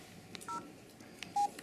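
Telephone keypad dialing at a home during a Christmas visit in Utah, two short electronic touch-tone beeps with faint button clicks between them, close and clear.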